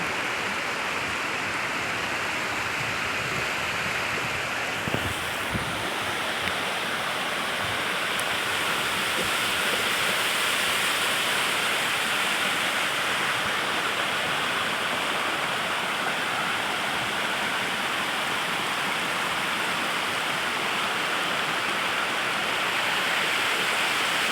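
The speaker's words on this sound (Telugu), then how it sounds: "వాటర్ ఈ విధంగా వస్తుంది" Steady rushing water runs continuously throughout, a dense broadband wash like a stream or small waterfall close by, with no voices.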